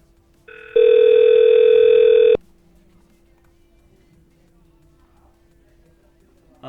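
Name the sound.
telephone dial tone during manual dialing in Vicidial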